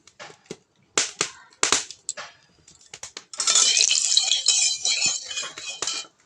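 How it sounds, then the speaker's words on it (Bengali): Mustard oil goes into a hot wok with a sudden loud, crackling sizzle that runs through the second half, after a few sharp metallic clinks and knocks of utensils nearby. "কড়াইটা আমার গরম হয়ে গেছে, কড়াইতে আমি সর্ষের তেল দিয়ে দেব।"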